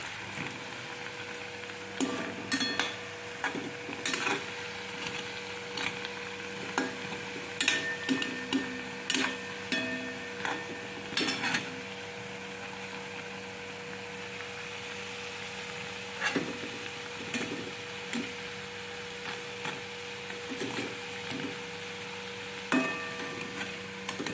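Medu vadas made from leftover chapati crumbs fry in hot oil, giving a steady low sizzle with scattered crackles and ticks throughout, close by and fairly quiet, with no talking.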